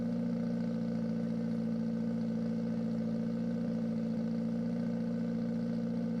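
A 1973 vintage Kawasaki 175cc motorcycle at an El Mirage dry lake speed trial, its engine a steady continuous drone heard from a distance without clear revving.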